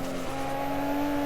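A modded Shotoku Revival race car in a VR racing sim video game drives steadily, its engine holding an even, sustained drone with a faint whine, close and alone.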